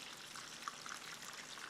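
Double meat kabab frying in hot oil while being pressed down with a slicer gives a faint, steady sizzle with small scattered crackles throughout.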